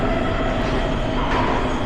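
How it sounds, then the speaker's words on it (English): A Prague metro train pulls into Ládví station with a loud, continuous rumble and roar of wheels and motors filling the underground platform. "you can see the metro coming here"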